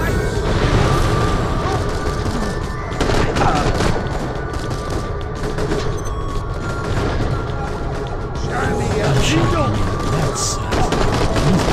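Rapid weapon fire and explosive booms from the shooter video game Borderlands: The Pre-Sequel, dense bursts layered with game effects, continuous and loud throughout.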